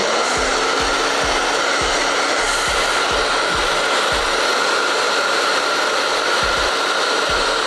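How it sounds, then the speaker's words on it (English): A blow dryer roars steadily and loudly over a straight wig being installed, with repeated soft bumps and rubbing noises close by. "I'm just gonna go in with a blow dryer really quickly"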